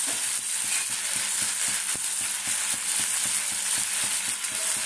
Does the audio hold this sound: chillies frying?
yes